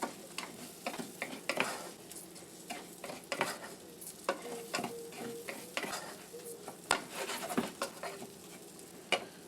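Rice for an amchoor pistachio pilaf is stirred and toasted in a pan over moderate heat, with a soft continuous sizzle and a run of repeated close scrapes and clinks of the spoon against the pan.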